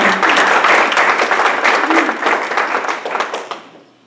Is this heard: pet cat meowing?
no